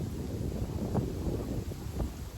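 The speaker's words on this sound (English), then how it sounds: "it is currently very windy" Steady low wind rumbles and buffets against the microphone beside a canal, with faint gusts rising and falling throughout.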